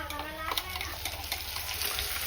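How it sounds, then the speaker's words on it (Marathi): Ground masala paste for chicken gravy sizzling in a pan, stirred with a spoon that scrapes and clicks repeatedly over a continuous close frying hiss, moderately quiet, with a faint voice in the background. "सो आपण पूर्ण टाकलेलं वाटण."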